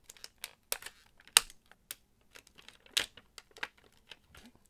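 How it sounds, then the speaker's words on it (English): Sharp snips and crinkles of scissors cutting stiff plastic toy packaging, irregular and close, with brief pauses between cuts. "Now it's time to go back to the trusty old scissors. Cut him out of here."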